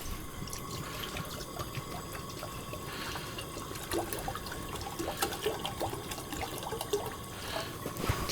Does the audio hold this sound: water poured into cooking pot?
yes